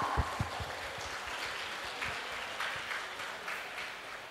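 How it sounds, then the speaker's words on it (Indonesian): Applause from an audience at a madrasah open house event for MAN Insan Cendekia Siak, a steady patter of clapping held at moderate level throughout, fairly distant. "Beri tepuk tangan yang meriah"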